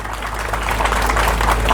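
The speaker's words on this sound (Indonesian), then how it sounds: "Tepuk tangan untuk beliau, Pak" Crowd applause at an Indonesian community gathering honoring a land donor, a steady dense wash of many hands clapping, fairly loud and continuous with some low hum underneath.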